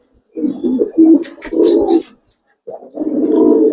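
Giribaz and coloring pigeons coo in a loft, with several close, deep, throaty cooing phrases in two clusters separated by a brief pause.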